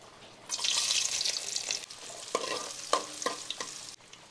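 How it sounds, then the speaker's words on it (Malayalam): Onions hitting hot oil for a curry tempering, giving a sudden loud sizzle that settles into a steady crackling fry, with a few stirring clinks against the pan, close and without speech. "അപ്പോൾ ആദ്യം നമുക്ക് ഉള്ളി ഇട്ട് കൊടുക്കാം കേട്ടോ താളിക്കാൻ"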